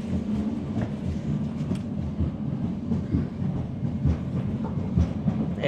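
Inside a compartment carriage of a moving passenger train in Kazakhstan, a steady low rumble with faint rhythmic wheel clatter carries on throughout, with no talking.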